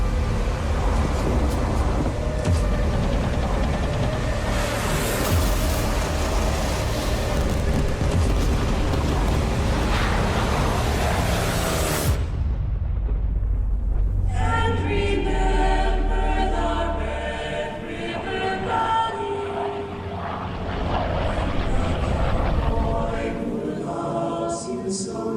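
A Douglas A-1H Skyraider propeller aircraft engine running at an airport, a loud steady roar with heavy wind buffeting that drops out midway, leaving a lower, rougher engine rumble.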